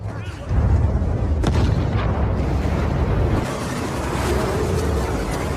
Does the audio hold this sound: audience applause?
no